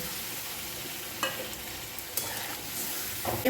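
Sliced tomatoes stir-fried with spices in a pan for a Bengali pabda fish curry with brinjal and black cumin, giving a steady close sizzle broken by a few sharper stirring scrapes and clatters, with no talking.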